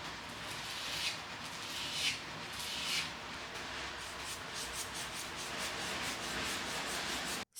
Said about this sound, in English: Well, more hand sanding.